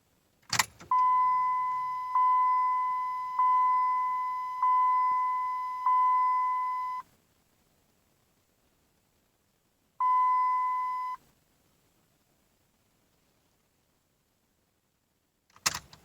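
Repeated truck dashboard warning chimes, on a 2003-2007 Cummins 5.9 during a key on-off cycle, ring in a regular series of five tones, stop, then sound once more, framed by a click at each end.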